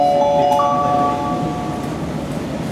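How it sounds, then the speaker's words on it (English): A Tokyo subway train approaches the platform with a loud, steady rumble and a thin, high whine running over it, filling the station without pause. "The train is approaching."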